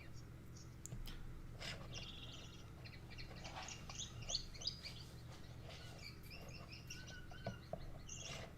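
Faint song of a male Gouldian finch in an aviary, chirps and twittering phrases repeating over a low background hum, with soft bird calls scattered throughout.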